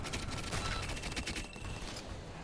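A tac launcher fires in a shooter video game, a rapid volley of loud, close bursts in quick succession with no talk.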